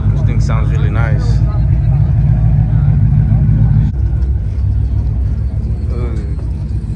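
Deep, steady engine rumble from a car at an end-of-year car meet, loud and close throughout, with people talking over it and a brief shift in tone midway.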